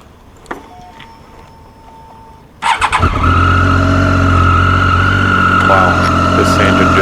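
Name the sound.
Triumph Daytona 675R motorcycle engine running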